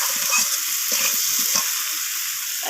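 Bhetki fish curry with green chillies being stir-fried in a pan, a loud continuous sizzle with repeated scraping stirs.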